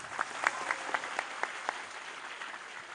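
A large crowd at an Islamic religious gathering in a village in Java claps in applause, a rapid rolling patter of many hands with a few sharper peaks, heard from a moderate distance without speech over it.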